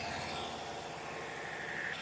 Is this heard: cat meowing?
no